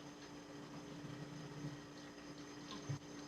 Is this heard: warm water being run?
yes